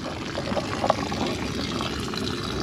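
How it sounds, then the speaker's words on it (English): Water draining from a full caravan drinking-water tank, a steady close splashing rush that keeps flowing without a break. "So I'll let that water drain off."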